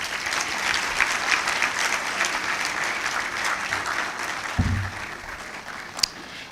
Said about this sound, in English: Please, another clap for Vicky.